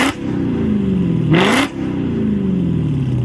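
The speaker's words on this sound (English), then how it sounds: "Out of frustration, he revs the engine over and over" A Dodge Hellcat's engine is revved again and again late at night, loud and close, the pitch climbing and falling in repeated swells, with one sharp peak of high whine midway through.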